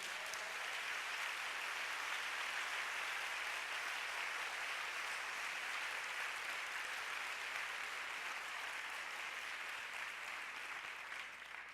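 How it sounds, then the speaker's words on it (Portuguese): A church congregation at a Nazarene church in Mesquita, Rio de Janeiro, applauds steadily, a dense, even roar of clapping that holds for the whole stretch without talk. "Você pode aplaudir o Senhor Jesus?"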